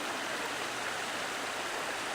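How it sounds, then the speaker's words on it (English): A waterfall in the woods along a hiking trail after rain, giving a steady, even rush of falling water that stays constant and moderately loud with no other sounds. "Great waterfall"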